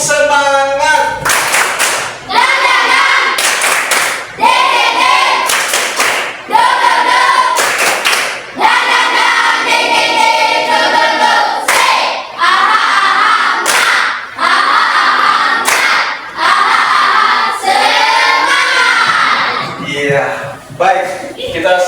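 A classroom of pupils performs a rhythmic spirit clap, loud sharp bursts of hand claps in patterned groups with short pauses, voices chanting and talking along between the claps.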